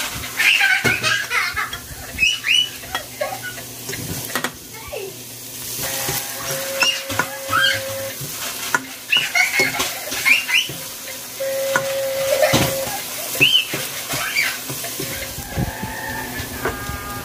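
Onion sizzles in a hot pan as it is stirred in, with crackling frying punctuated by scraping stirs and faint background voices and laughter.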